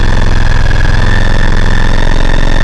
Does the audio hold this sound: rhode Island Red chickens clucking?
no